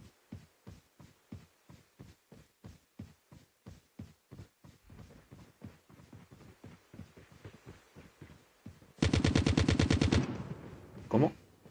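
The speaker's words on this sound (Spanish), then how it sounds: "¿Me están disparando a mí?" Call of Duty Mobile gunfire: a long steady run of evenly spaced single shots, followed by a dense, loud burst of rapid automatic fire near the end.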